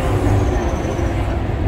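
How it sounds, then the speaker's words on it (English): Subway train rumbling past an outdoor riverside canoe and kayak launch area, a steady loud low roar with continuous rolling noise throughout, no voices. "So you see the subway running there"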